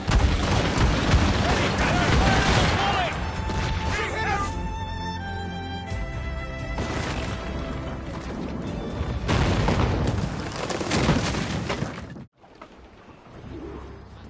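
Ship cannons firing in Assassin's Creed Rogue, heavy booming blasts in a rolling volley, with shouted crew voices and sea ambience around them.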